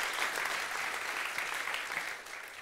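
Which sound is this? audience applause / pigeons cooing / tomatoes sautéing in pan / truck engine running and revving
audience applause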